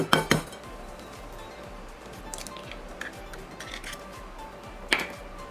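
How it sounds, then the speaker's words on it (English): An egg is whisked into a cream cheese mixture in a bowl, giving quick, rhythmic light tapping and scraping strokes against the bowl, with a few louder clinks near the start and end. "we'll whisk it"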